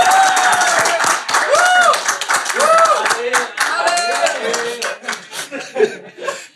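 An audience claps to welcome a guest artist onto an Indonesian comedy talk show, a loud, dense burst of clapping mixed with laughter, with speech and playful vocal sounds weaving through it.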